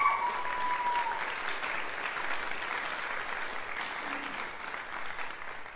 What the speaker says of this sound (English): So can we have a round of applause for all of them?